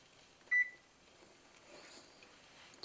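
A kitchen timer gives a single short electronic beep while Christmas candy is made, clear and close against a quiet room.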